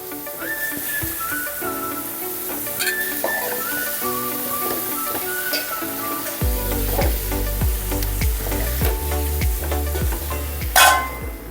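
Eggplant, potato and beans frying in a pan, with a steady sizzle that swells louder when more goes in, plus scattered stirring clatter. Tonal whistle-like sounds from elsewhere in the room carry over the top, and no one speaks.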